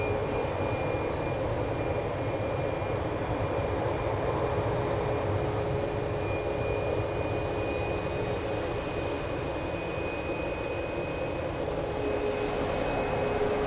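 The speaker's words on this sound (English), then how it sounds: "it looks like our next plane is a Southwest headed to Oakland" Southwest Airlines jet at Phoenix Sky Harbor airport, a steady loud engine roar that holds even and continuous throughout, with no talking over it.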